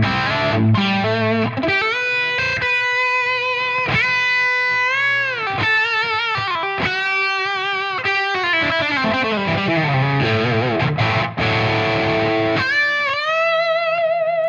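Electric guitar played through a Tonex OD1 overdrive tone on the neck pickup, loud sustained distorted notes and chords with slides and bends, alone with no talk.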